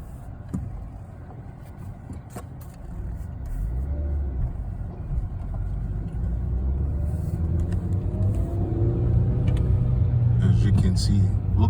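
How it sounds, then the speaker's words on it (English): A manual Hyundai Veloster engine rumbles close by, its revs rising and hanging slowly as the clutch is worked, with a low steady drone building toward the end. "See, look how long the rev is taking clutching and then clutch out."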